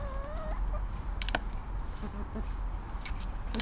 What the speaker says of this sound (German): Hühner sind cool.